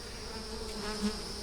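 Honeybees buzz at the entrance of a hive under a magnolia tree as foragers fly in with pollen, a faint, steady, close humming drone.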